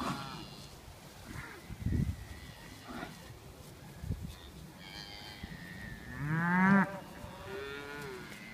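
Cattle on newly opened pasture low and moo several times, with a long, loud, close call near the end and fainter lows between, over open outdoor ambience.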